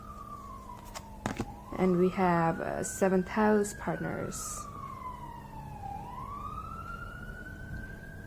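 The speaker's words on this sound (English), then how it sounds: "sorry about the siren in the background" An emergency vehicle siren wails steadily in the background, a long slow rising and falling tone that keeps going throughout, while someone talks over it in the foreground.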